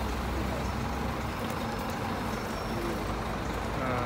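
Buses idle and rumble at a bus station, a steady, moderately loud low engine drone with diffuse background noise and no distinct events.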